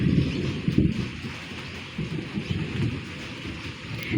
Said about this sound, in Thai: ฝนตกอีกแล้วนะคะ ตอนนี้กำลังจะตกนะคะ ฟ้าร้องคลึมคลึม